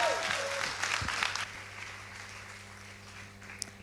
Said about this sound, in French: Est-ce qu'on peut applaudir le Seigneur?